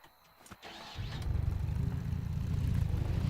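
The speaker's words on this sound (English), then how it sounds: "Why is this engine so slow?" A vehicle engine in the Scrap Mechanic game fires up after a brief clatter and settles into a steady, loud low rumble that keeps running to the end.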